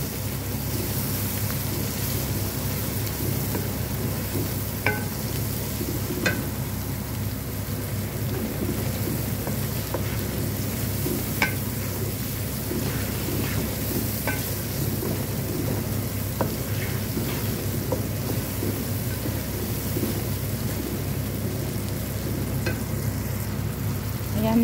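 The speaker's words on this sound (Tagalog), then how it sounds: "Ayan, ginigisa. Gisa-gisa." Rice sautéing in a pan with string beans, tomato, seasoning cubes and long green chili, a steady sizzle broken by scattered stirring clicks and scrapes of the utensil over the whole stretch.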